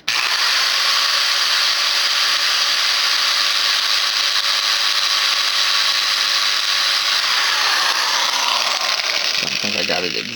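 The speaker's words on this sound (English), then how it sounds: "let's go ahead and drill out tire number 2." A small power drill whirring steadily into a toy car tire, a high continuous whine held for several seconds that winds down and stops near the end, close and fairly loud.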